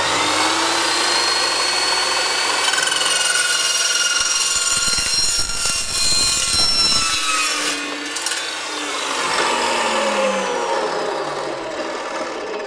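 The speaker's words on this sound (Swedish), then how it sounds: "Jädra vad effektivt den sågade där." A fast-spinning metal cold cut saw grinds loudly through metal, a continuous harsh screeching whine that shifts in pitch as the cut progresses, close up.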